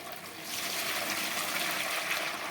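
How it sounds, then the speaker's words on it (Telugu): Hot water is poured into tubs while greasy old silver utensils are cleaned with detergent, making a steady, close splashing rush that stays even throughout with no talk. "ఇంకా టబ్బులకు అయితే పోస్తున్నానండి"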